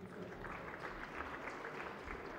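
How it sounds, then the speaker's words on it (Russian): An audience at a boxing event applauds the losing boxer. The clapping is steady and faint throughout and sounds like it comes from a distant crowd. "И ваши аплодисменты его сопернику Вячеславу Максюченко."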